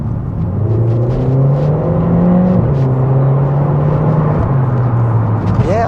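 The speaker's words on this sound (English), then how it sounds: "the downshift sounds quite good as always" A 2017 Audi A1 S Line Black Edition engine hums in a steady, close drone, then drops in pitch as it downshifts partway through before settling back into a smooth rumble.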